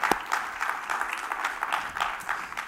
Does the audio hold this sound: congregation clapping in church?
yes